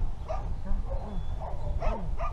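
A young male Springer spaniel puppy gives a few soft yips and whimpering barks, close by, over a rumbling outdoor background.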